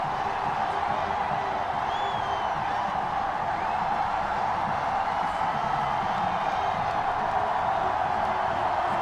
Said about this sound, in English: Crowd erupting here.